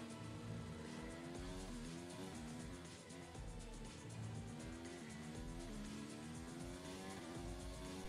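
A Formula 1 car laps the Mexico Grand Prix circuit, its engine a loud, continuous high-pitched whine that climbs and drops through repeated gear changes for the whole stretch, with no voices over it.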